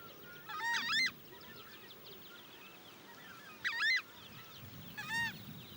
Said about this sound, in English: Ornithologists have studied the power of its honk and have quantified it.